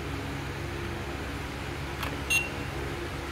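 A Costar T310 doorbell, fitted with a new speaker, gives a couple of short electronic beeps in quick succession over a faint steady background hum.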